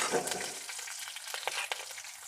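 Steady frying sizzle of green chilies sautéing in a hot pan for semiya upma, with scraping stir sounds and small crackles throughout, close and fairly loud.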